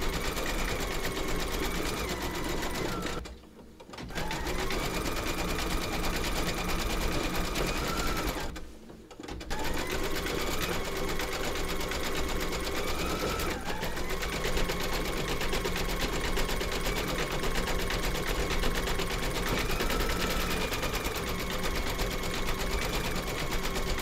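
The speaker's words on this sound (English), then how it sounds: "Load your thread colour for the pads of the feet into your machine and then stitch round number 5." An embroidery sewing machine stitches the foot pads of a fabric bunny in pink thread, a steady loud mechanical whir with fast needle rhythm, broken by two brief pauses before running on continuously.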